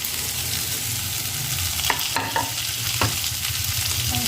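Tomato frying in a pan for aloo palak while being stirred, a steady hissing sizzle under a few distinct scraping strokes of the spoon near the middle, close and fairly loud with no talk.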